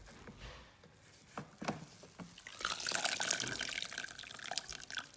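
Water tipped out of a Thermomix mixing bowl into a sink, building from a few scattered drips and splashes into a steady, close pouring and splashing stream that runs to the end.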